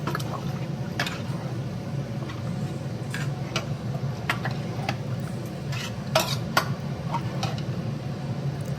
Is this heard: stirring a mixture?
yes